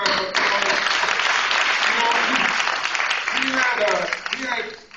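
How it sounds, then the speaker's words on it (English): Audience applause for a scholar being introduced at a cultural event, a loud dense roar of many people clapping that continues steadily and fades slightly at the end. "Please give him another round of applause."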